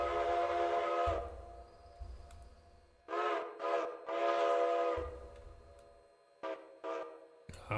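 A customized steam locomotive whistle in the train game Railroader sounds in several blasts: a long opening call, then short bursts and two more long and short toots, loud and near with brief silences between.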